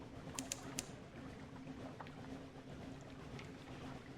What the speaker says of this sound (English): ship's engines labor against the snow from the north